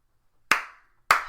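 Two crisp, sharp hand claps ring out about half a second apart against silence, each snapping loud and then fading quickly.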